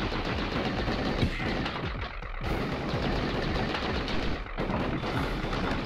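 Rapid, sustained automatic fire from the repeater weapon in the Gato Roboto game, a dense unbroken gunfire rattle with brief dips, loud and continuous.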